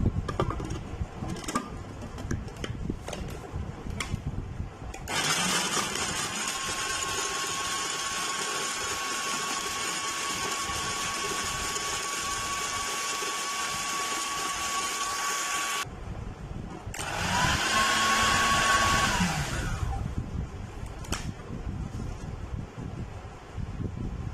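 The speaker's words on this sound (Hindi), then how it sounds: "अपने सारे बिस्किट जो है हमारे वो इसमें डाल देंगे और अच्छी तरह इसको ब्लेंड करके इसका फाइन पेस्ट बना लेंगे।" An electric chopper whirs steadily while blending Oreo biscuits into a fine paste, running for about ten seconds, pausing briefly, then whirring again in a second burst against background noise.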